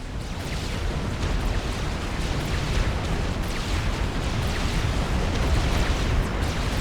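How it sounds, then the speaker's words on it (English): Dense rumbling barrage of artillery shells exploding in the strategy game Supreme Commander: Forged Alliance, a loud, continuous roar of overlapping blasts with no clear talk above it. "Difficult to say whether that was one last shot or an inbound rain from artillery."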